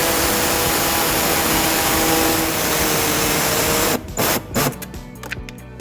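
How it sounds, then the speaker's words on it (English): Pneumatic air saw cutting through the underbody panel of a 2014 Lexus RX350, a loud continuous high buzzing rasp that runs several seconds, then stutters into short bursts as the trigger is pulsed. "we're going to be using our air saw to cut that"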